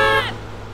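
A car horn from a remastered GTA San Andreas sound pack gives one brief, loud honk that slides downward and cuts off. A faint low hum is left behind.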